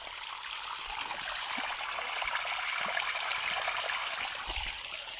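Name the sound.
water flowing from a hillside spring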